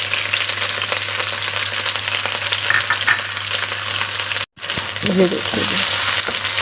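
Chopped onions fry in a pot for chicken mash ki daal, a loud close continuous sizzle with hissing bubbling throughout, broken by a brief gap, while a voice speaks over it.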